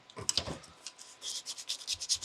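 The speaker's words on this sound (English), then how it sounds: "just a little bit of sanding." Quiet, rhythmic scratchy rubbing of sandpaper back and forth along a book cover edge, close up, in quick repeated strokes.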